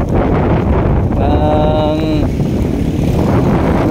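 Strong wind roars steadily against the microphone at a construction site with concrete girders for the New Manila International Airport, with a brief tonal engine-like hum rising partway through.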